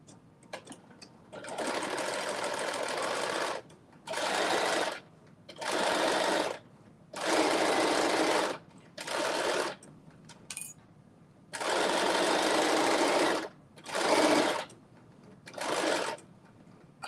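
Sewing machine stitching a garment, McCall's M8208, in bursts of steady whirring run separated by short pauses, about eight runs of varying length, close and clear.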